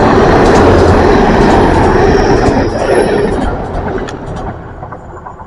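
A Class 43 London Paddington to Penzance train rushes past at speed near Liskeard. A loud, dense roar of wheels and rails fades gradually as it goes by.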